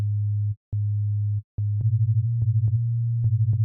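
Generative ambient synth patch in Ableton, notes limited to a minor pentatonic scale: a steady sine-like low tone, broken by two short gaps, with sparse plucky note blips and a pulsing wobble in the second half, clear and alone.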